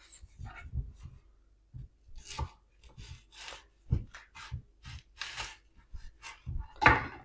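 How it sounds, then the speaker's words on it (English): A knife cuts a trimmed leek in half on a board, giving a series of close, irregular knocks and crunchy cuts with short scraping bursts, moderately loud and with no talking. "And then it just says cut it in half."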